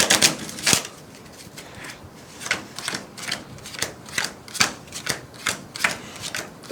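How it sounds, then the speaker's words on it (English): Playing cards for the board game Initiative being shuffled in a series of quick riffling bursts, close up, roughly a dozen sharp crackling runs with brief pauses between them. "I did a 4x power shuffle, and then I'm doing a 3x power shuffle"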